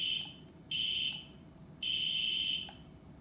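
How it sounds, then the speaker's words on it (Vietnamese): Buzzer horn on an Arduino Bluetooth remote control car (DIY T-rex kit driven by a PS3 controller), giving two long steady electronic beeps about a second apart, loud and close, each preceded by a short click. "Mình thử còi xe."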